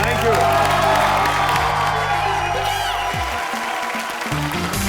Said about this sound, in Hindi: चलिए कृष्णा, सुदेश और अदा के लिए जोरदार तालियां